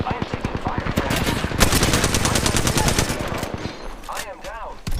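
Rapid automatic gunfire from a video game shooter rattles in dense, loud bursts close up, with a brief pause and a short electronic whine before firing resumes.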